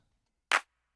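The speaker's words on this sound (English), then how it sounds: "The next clap is this." A single short clap sample from a layered drum clap, built as one of three clap sounds in Ableton for an edit; one crisp, bright, dry hit in silence.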